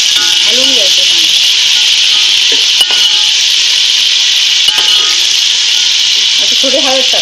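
Whole spices for chicken biryani are stirred in a pan with a utensil, a close, loud, continuous scraping rasp, with brief bits of a voice at the start and end.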